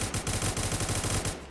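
Rapid automatic gunfire from an Apex-style weapon in a Roblox game, a tight burst of about a dozen evenly spaced shots, close and punchy, stopping abruptly.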